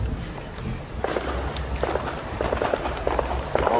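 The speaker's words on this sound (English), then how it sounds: "that sounds like a shootout" Gunshots from a shootout in Cleveland, not far off, come as scattered sharp cracks spread unevenly across the stretch over a steady outdoor noise bed, distant rather than close and with no talking over them.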